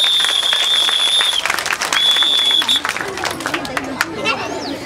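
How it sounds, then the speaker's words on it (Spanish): A crowd at a Christmas gift-giving event at the Huarochirí provincial government office applauds a clown with loud, dense clapping, mixed with chatter and sharp whistle tones. "un aplauso al payaso"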